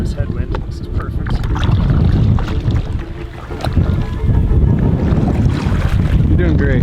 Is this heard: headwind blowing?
yes